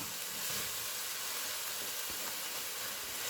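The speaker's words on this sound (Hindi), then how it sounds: "अब इस स्टेज में मैं इसमें लहसुन अदरक का पेस्ट जो है वो डालकर इसको मैं अच्छा सा पका" Garlic-ginger paste fries with reddened onions in a pan for chicken aloo salan, giving a soft, even sizzle with a faint hissing texture, low and steady for the whole stretch.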